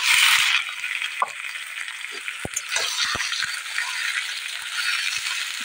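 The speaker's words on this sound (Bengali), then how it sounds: "তাই আগে মাংসটাকে আগে ভাজি করে নেব" Chicken pieces, some on the bone, sizzle steadily in a pan for a Rajbanshi-style chicken and pumpkin curry, a dense hiss with scattered clinks and stirring knocks and no talk.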